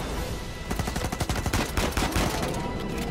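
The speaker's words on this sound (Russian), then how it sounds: "Довольно-таки интересная стрельба. Динамика стрельбы." Rapid bursts of gunfire from a firefight in the video game Uncharted 4, sharp repeated shots crackling in quick succession for a couple of seconds, fairly quiet overall with no talk.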